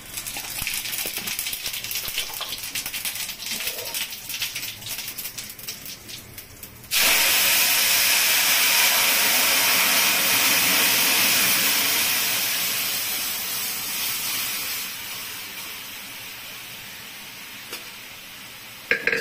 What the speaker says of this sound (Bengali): ডালটা পুরো টকবকিয়ে ফুটে গেছে।